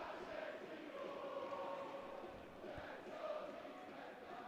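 Organized Pistoiese supporters chant steadily in a stadium during a Serie D football match against Piacenza, a dense, continuous crowd roar with sustained voices at moderate distance.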